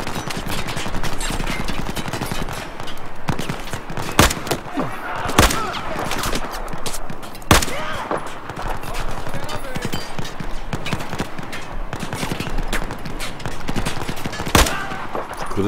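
Dense Battlefield 4 gunfire with rapid bursts and several louder single shots, continuous throughout, with a voice talking underneath.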